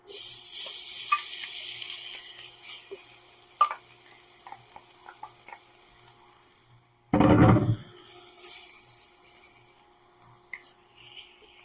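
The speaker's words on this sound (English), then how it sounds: "When that's really sizzling, now looks like it's good and hot. Add the sausage." Sausage sizzles in a hot pan, a bright hiss with scattered pops and clicks that fades, then a loud burst of frying noise flares as more goes in before settling back to a quieter sizzle.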